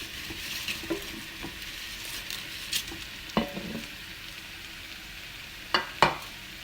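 Potatoes and eggplant frying in a pan, with a constant soft sizzle under several sharp scraping stirs and clinks at irregular intervals.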